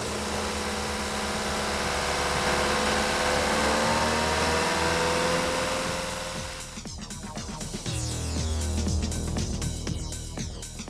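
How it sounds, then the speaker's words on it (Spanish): A TDI diesel engine running with a steady, loud mechanical drone that shifts character partway through as it settles into a rougher, lower idle, close by and with no talk. "ponemos el motor en marcha"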